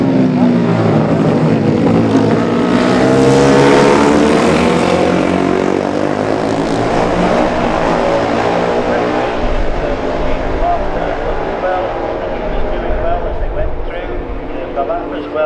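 Classic racing motorcycles, among them a Honda, pass at speed during a Classic TT junior race near Ramsey hairpin; a loud engine roar rises and sweeps by, then fades, with a commentator talking over it.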